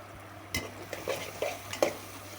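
A spoon stirs thick poha (flattened rice) in a pan in a home kitchen, with several distinct scraping strokes against the pan under faint background hum.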